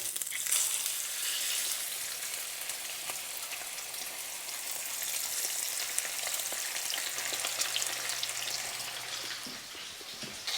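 Snapper fillets sizzle steadily in hot olive oil in a skillet, a dense, even crackle that holds throughout with no voices.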